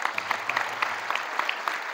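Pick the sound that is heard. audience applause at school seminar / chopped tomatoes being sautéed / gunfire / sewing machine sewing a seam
audience applause at school seminar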